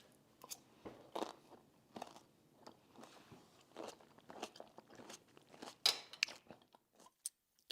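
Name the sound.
chewing kimchi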